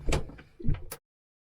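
A car door clunks open with a short mechanical latch sound and a brief creak, heard up close, then silence.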